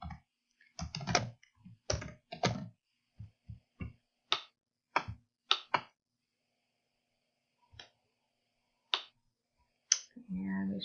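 Computer keyboard typing while entering a name into real-estate transaction software, brief clusters of clicky keystrokes spaced apart with pauses, close and fairly quiet, with a person talking at the start and end.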